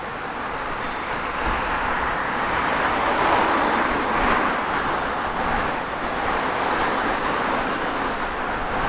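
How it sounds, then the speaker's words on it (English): A big double-decker bus drives past on a road, a broad rushing engine and tyre roar that swells to a peak mid-way and then eases off, with steady traffic noise around it. "Here comes the bus, just going past now"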